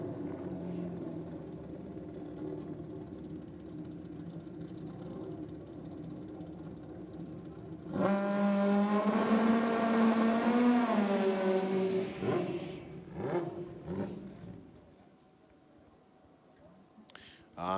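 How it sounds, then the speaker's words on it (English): Nitrous drag bike at a 2023 Nitro Champs drag race doing a burnout, a steady loud engine drone that surges into a high revving roar around the middle, then cuts out abruptly as the bike stalls, leaving faint background noise. "Unfortunately, the bike stalling at the end of the burnout there for Rob Cassa."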